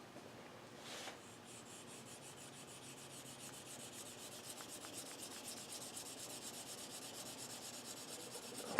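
The back of a carving tool is rubbed steadily over a paper printout laid on wood, making a soft continuous scratchy rasping with fine repeated strokes throughout, faint and close with no voices.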